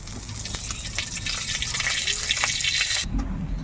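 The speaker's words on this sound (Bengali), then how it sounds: "এবার যে কড়াইয়ে তেল আছে তার মধ্যে আমি আরো তেল দিয়ে দিব।" A stream of oil pours into a hot wok already holding oil, giving a steady close hiss and gush that stops abruptly near the end.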